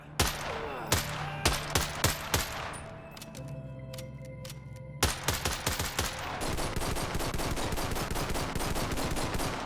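A Combat Master 2011 gun mod fires in the virtual-reality game Bonelab, with loud single shots and short bursts before a long stretch of sustained rapid automatic fire, punchy and close.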